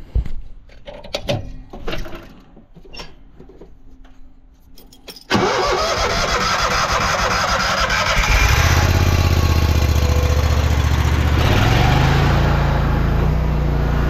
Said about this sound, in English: Let's fire up this jetter